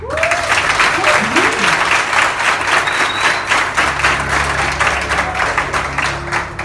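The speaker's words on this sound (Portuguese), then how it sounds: "E outra salva de palmas para o vosso colégio pela iniciativa" Applause from an audience honouring a school for its initiative, steady and dense across the whole stretch, with a voice speaking over it near the start.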